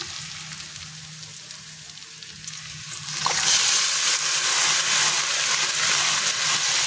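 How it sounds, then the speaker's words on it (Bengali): Chicken marinated eight hours in sour yogurt, turmeric, salt, lime and mustard oil hits onions already fried reddish, and a loud, steady sizzle bursts up about three seconds in and holds close and strong. "এবার আমি এর উপরে চিকেনটাকে দিয়ে দেব।"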